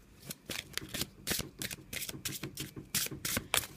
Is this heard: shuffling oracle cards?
yes